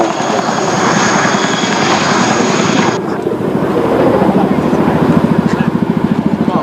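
A Royal Air Force Chinook twin-rotor helicopter flies a display at the Malta International Airshow, its loud, close rotor thump turning into a rapid, rhythmic chop, while a commentator talks over it.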